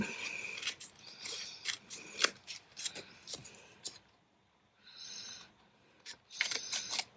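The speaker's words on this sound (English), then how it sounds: "So the vellum pocket there, we'll just cut off the excess." Scissors snip away excess vellum from a paper pocket in a papercraft project, giving repeated close, crisp cuts in a slightly irregular rhythm with a short quiet pause partway through.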